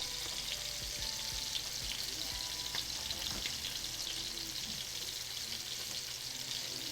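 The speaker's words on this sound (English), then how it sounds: "I'm gonna try and cook the salmon this side down, so flesh side down rather than skin side down" Salmon cooks flesh side down in a hot pan, giving a steady, moderate sizzle with faint crackles and a few soft knocks, and no one speaking.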